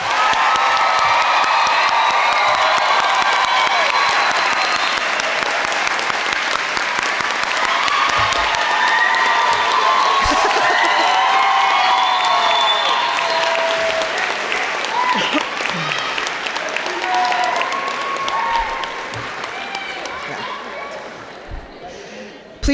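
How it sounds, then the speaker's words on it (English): A seated crowd at an academy graduation ceremony breaks into sustained loud applause with cheers and whoops. Tonal sound carries through the clapping, which continues for about twenty seconds before starting to thin out near the end. "we present to you for a final round of applause the Academy's graduating winter class of"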